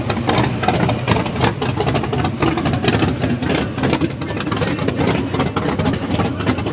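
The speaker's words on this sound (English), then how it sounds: "69 Mustang Coupe, open headers." A 1969 Mustang Coupe with open Hooker headers, Holley carburetor, MSD ignition and Comp cam idles loudly nearby, a lumpy, choppy rumble with a steady uneven beat that carries on throughout.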